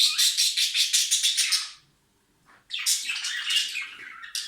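Budgerigars chattering loudly in rapid, high-pitched trills, a burst of calls, a brief pause, then another insistent stretch of warbling close by.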